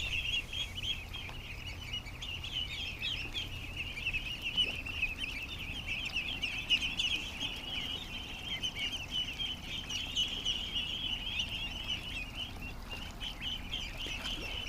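Ducklings swimming in a tub, giving a steady stream of high, thin peeping that carries on without a break throughout. It sits over a constant low background rumble.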